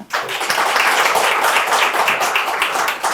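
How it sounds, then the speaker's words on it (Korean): Audience applause at a government research report presentation, a dense, steady burst of many hands clapping that starts abruptly and holds evenly for a few seconds, with no talking. "발표를 위해서 힘차게 박수 한번 부탁드리겠습니다."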